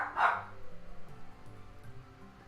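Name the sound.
dogs barking in Pokemon Brilliant Diamond video game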